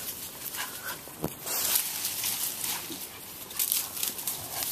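A dog whines and yips in short bursts against a hissy, noisy background, with a couple of sharper bark-like cries, fairly close.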